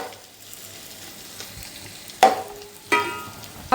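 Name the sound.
chicken fried rice frying on medium-high flame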